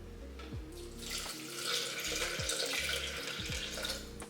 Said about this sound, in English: Let's go ahead and just pour some water in while it's already open.